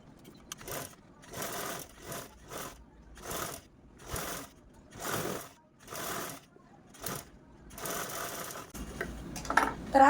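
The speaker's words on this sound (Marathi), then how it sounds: "अशा पद्धतीने आपण ही झिप स्टिच करून घेतली आहे" A sewing machine stitches a zip onto fabric cut from old trousers, whirring in a series of short, evenly spaced bursts separated by brief pauses.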